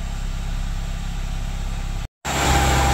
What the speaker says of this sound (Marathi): 2000 RPM चालली आहे बघा गाडी, ॲटोमॅटिक गाडी